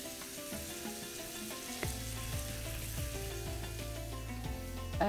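Apple pieces frying in about a spoonful of butter in a pan, a steady close sizzle with occasional stirring scrapes and a faint background hum.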